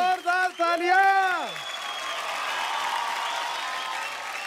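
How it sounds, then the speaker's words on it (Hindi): A voice speaks briefly, then a dance TV show audience breaks into steady applause that continues to the end. "जोरदार तालियां"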